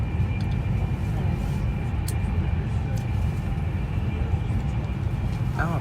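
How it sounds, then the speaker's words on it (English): Virgin Trains Class 390 Pendolino electric train running from Birmingham New Street to London Euston, a steady loud low rumble and rushing roar heard from on board throughout. "Our train is a Class 390 Pendolino."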